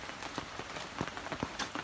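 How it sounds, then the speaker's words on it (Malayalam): Faint rain patters on a surface, with scattered soft drops tapping irregularly over a quiet, even hiss. "സ്ഥിരം കണ്ടില്ലേ നല്ല മഴയാണ്"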